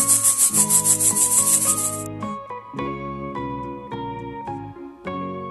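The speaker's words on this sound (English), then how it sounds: "Grasshopper." A grasshopper chirps in a fast, rhythmic rasping burst lasting about two seconds, with steady background music continuing after it stops.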